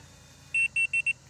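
Keypad of a Latch It keyless RV door lock beeping four times in quick succession, short clear electronic tones close by over a quiet background.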